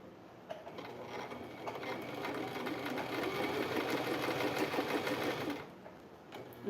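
A foot-pedal sewing machine runs steadily with a fast mechanical whirr and clatter, rising slightly in intensity as the pedal is pressed, then easing off near the end; close and fairly quiet, with no talking.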